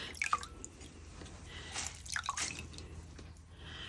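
Water dripping and trickling from a wet, freshly knitted petal hat pressed against the side of a bowl, a few soft scattered drips and small splashes, close and quiet with no talking.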